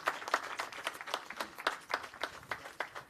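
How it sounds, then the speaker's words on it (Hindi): Audience applause at a Jharkhand Foundation Day state ceremony, a moderate crowd clapping steadily with distinct individual claps standing out, fairly close and sustained. "जोरदार तालियों से अभिनंदन करें"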